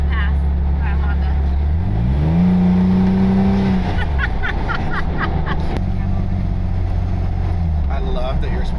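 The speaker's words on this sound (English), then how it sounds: "We're gonna pass by a Honda." A car on a backcountry road overtaking a Honda: a loud, close engine whose pitch climbs, holds steady, then drops away, with brief voices in the cabin.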